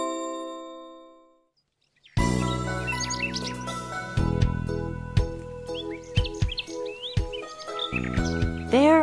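Birds chirping and singing in short, varied tweets and whistled phrases over a steady chiming, bell-like background, starting after a quiet tonal opening and continuing fairly close and clear to the end.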